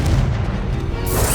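Confringo blasting curse detonating in Hogwarts Legacy, a loud, deep rumbling blast sustained through the moment with a brighter burst near the end, no voices over it.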